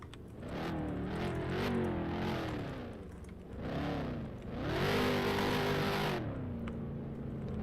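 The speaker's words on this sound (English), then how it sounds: "Ayers Netta doing celebratory donuts." Race car in a racing video game spinning celebratory donuts, engine revving up and down in repeated swelling surges with tire-squeal bursts, loud and close, ending in a lower steady drone.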